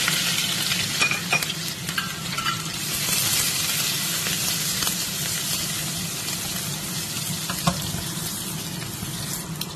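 Black cumin seeds and garlic fry in hot oil for a dandelion leaf dish, giving a steady, close sizzle with scraping stir strokes throughout and no voices.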